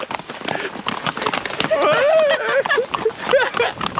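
Horses walking along a trail, with hoof clops and movement mixed under people speaking and a bird chirping, close and fairly loud throughout.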